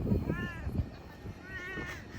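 A cat meows twice, thin and wavering, under a low rumble of nearby movement and background noise.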